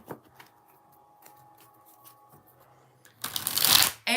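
Tarot cards are shuffled by hand, with soft riffling ticks at first and then a loud, dense riffle near the end that cuts off abruptly. No one speaks.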